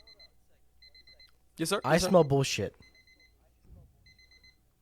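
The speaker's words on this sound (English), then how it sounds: "Oh wait, that's my alarm clock." An alarm clock beeps in short repeated bursts at a steady rhythm, fairly faint, pausing while someone speaks loudly in the middle.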